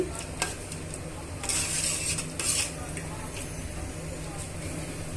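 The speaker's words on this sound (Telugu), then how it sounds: "ఇవన్నీ బాగా మిక్స్ చేసుకొని ఉడికించుకోవాలండి" A spoon scrapes and clinks against a pan while tamarind rice mixture is stirred during cooking, faint metallic scraping strokes over a low steady background hum, with a couple of brighter clanks.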